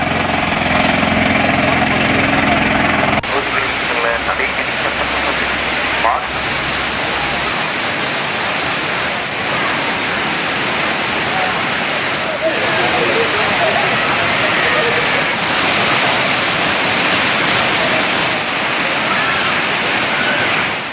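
Thirparappu falls in Kanyakumari send down water with a loud, steady roar, a continuous dense rush that fills the whole scene without letting up.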